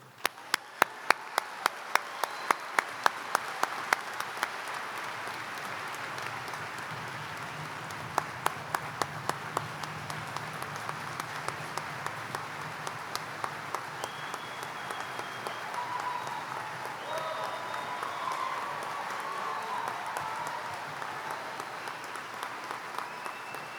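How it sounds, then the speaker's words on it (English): Audience at a keynote event claps and cheers as the speaker is welcomed, a sustained hall-wide ovation with a few sharp close claps early on, gradually easing but continuing throughout. "you're already clapping and cheering"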